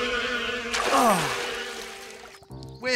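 An insect-like buzzing hum swells and wavers, with a sweeping whoosh partway through and a brief sharp sound at the end.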